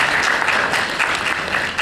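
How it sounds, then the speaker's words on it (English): An audience at a convention in Chicago claps in dense, continuous applause, loud and close, filling the short stretch without pause. "So round of applause for her."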